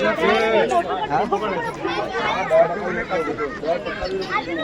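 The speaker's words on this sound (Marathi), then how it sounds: "इथं लय गर्दी आहे रे" Dense crowd chatter fills a busy tourist viewpoint in Mahabaleshwar, many overlapping voices babbling close by at a steady, loud level with no pauses.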